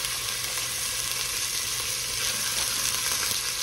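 Ground meat, a lean 90-10 blend, sizzles and fries steadily in a little oil in a pot, a dense continuous crackle held close and fairly loud throughout with no talking.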